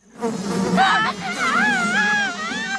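Mosquitoes buzz in a Family Guy cartoon scene, a loud, close, wavering high whine that bends up and down in pitch and sustains throughout.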